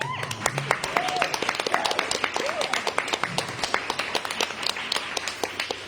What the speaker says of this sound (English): you go ahead and clap